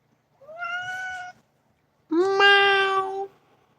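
A house cat meows twice up close, a short rising call followed by a longer, louder, drawn-out meow, with a quiet room in between.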